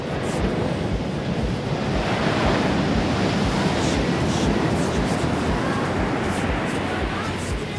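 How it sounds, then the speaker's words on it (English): Ocean surf roars continuously close by, a dense wash of breaking waves with wind rushing across the microphone and no pause throughout. "You gotta watch for rogue waves."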